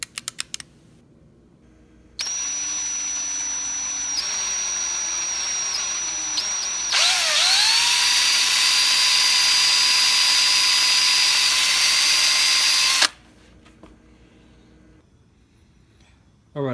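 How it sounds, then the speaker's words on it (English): A power drill whines steadily for about ten seconds, its pitch dipping and shifting as it bites into a metal roll pin on a lock, then cuts off abruptly. "we're going to drill that roll pin out"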